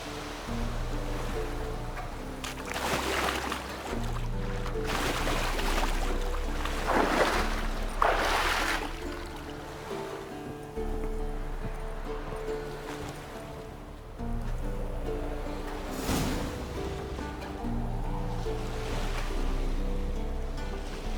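Wooden boat crossing a lake in The Witcher 3, with steady water lapping and sloshing against the hull throughout and several louder swells of splashing surf rising and fading.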